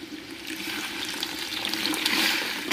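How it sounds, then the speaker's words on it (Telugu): Water pours into a cooking pot holding onions, tomato pieces and turmeric, a steady close splashing gush that swells slightly toward the end, with no voices. "వాటర్ అయితే వేస్తున్నాను"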